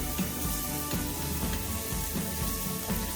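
Spring onion greens and whites, garlic and onion sizzle in a pan on high flame for egg fried rice, a constant crackle with faint rhythmic stirring scrapes.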